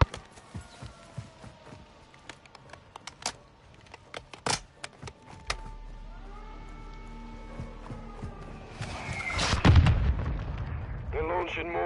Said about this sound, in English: Launching mortars, don't stay in one place, Sergeant.